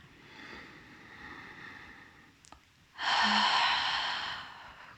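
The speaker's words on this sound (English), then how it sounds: "Let's do a couple more breaths like this." A woman doing deep rib cage breathing in prenatal yoga: a soft inhale, then a long, loud, breathy exhale lasting about two seconds, close to the ear.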